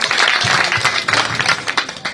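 Villagers applaud at a welcome gathering in Gyaspur village, a brief burst of crowd clapping that swells and then thins into scattered claps.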